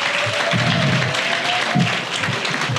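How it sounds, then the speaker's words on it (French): Applause fills the room at a corporate party: steady, dense clapping from a large audience that holds at an even level throughout, with no voices standing out above it. "Je demande d'applaudir très fort."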